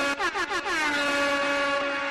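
An air horn sound effect blares loud and close, starting with a few quick stuttering blasts and then holding one long, steady, brassy tone to the end.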